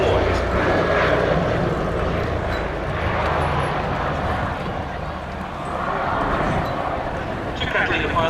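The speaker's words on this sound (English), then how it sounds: "here we see the Catalina flying past us with the wingtip floats deployed" A Consolidated PBY-5A Canso Catalina, 'Miss Pick Up', flies past at the Duxford Air Festival with its wingtip floats lowered, its piston engines giving a loud, continuous droning roar that swells and fades slightly, with crowd noise and talk underneath.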